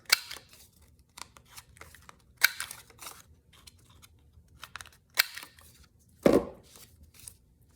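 Scissors snip paper corners for a handmade junk journal envelope: a series of short, close, crisp cuts spaced irregularly, with one louder snip near the end, and no talking.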